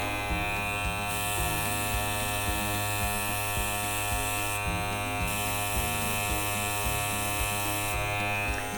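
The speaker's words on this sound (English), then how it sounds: "I'm just practicing my control over this airbrush" An airbrush sprays small swirl patterns over a constant buzzing motor hum, with a broad airy hiss cutting in and out as the trigger is worked, close and steady with no talking.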